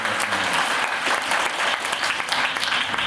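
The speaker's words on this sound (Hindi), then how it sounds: "हम जोरदार करतल ध्वनियों से पुनः आपका स्वागत करते हैं।" An audience claps loudly and continuously to welcome a guest at a Hindi Day event, a dense, even wash of applause from a crowd that carries on without a break.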